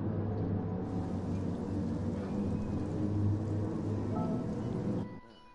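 Pouring rain in the Gran Turismo Sport racing game makes a steady dense hiss and wash, loud and uniform, over a low rumble, cutting off abruptly near the end.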